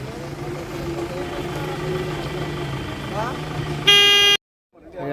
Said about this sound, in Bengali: পরপর জিপ যাচ্ছে।